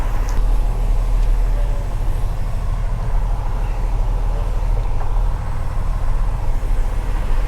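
A vehicle towing a trailer while maneuvering gives a steady, loud low engine rumble nearby throughout.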